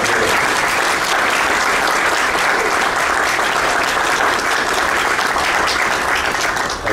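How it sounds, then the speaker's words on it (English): Sustained, loud applause fills an interfaith Eid celebration at an Ismaili Jamatkhana, a dense steady wash of many hands clapping in honour of frontline heroes, continuing unbroken throughout. "Let's give a round of applause to all of our heroes."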